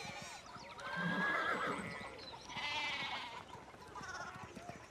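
A horse whinnies in the video game Pentiment, a shrill, wavering neigh sounding twice over a quiet background, moderately close but not loud.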